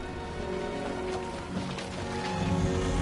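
Timefall rain in the video game Death Stranding 2 makes a soft, steady patter and hiss that runs on without a break beneath a low ambient hum, and no one speaks.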